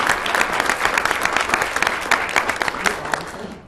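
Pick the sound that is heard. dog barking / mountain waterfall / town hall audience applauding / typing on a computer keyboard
town hall audience applauding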